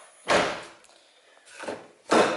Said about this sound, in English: we can close the door and check that is everything going fine